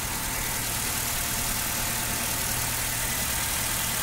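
A Maruti Suzuki petrol car engine idles smoothly with no misfire, a steady low hum and rumble that stays even throughout, close by with no talking.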